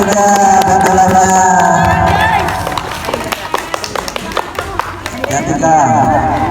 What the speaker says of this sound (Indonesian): Tepuk tangan buat gereja dan dalamnya.